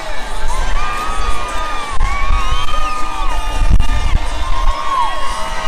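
Crowd at a strongman car walk event cheering and whooping loudly and continuously, with shouts and cries rising over a dense roar throughout.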